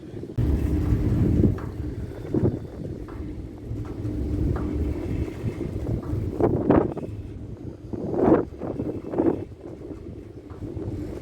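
A Northlink ferry is released from shore and departs Shetland, with heavy wind buffeting the microphone over a low rumble of vessel noise and a few brief clanks and splashes.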